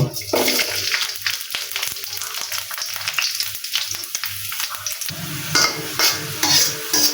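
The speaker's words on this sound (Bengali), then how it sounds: "আগে রসুনটা ভেজে নেব" Garlic frying in hot mustard oil, a loud close crackling sizzle with rhythmic stirring scrapes, the sputtering growing louder toward the end, no talking.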